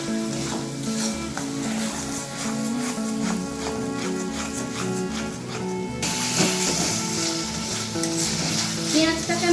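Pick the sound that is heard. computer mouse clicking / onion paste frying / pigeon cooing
onion paste frying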